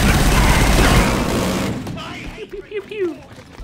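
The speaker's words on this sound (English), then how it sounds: "The chain gun is very heavy, okay?" Heavy chain gun firing in the first-person shooter Killzone: Shadow Fall, a loud sustained roar of rapid fire that cuts off after under two seconds, followed by a quieter stretch with a voice speaking.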